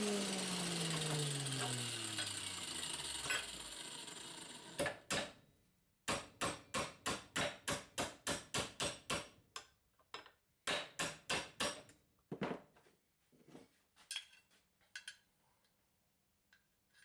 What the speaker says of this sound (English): So I need to cut and then hammer the tab so that the RHS can bend backwards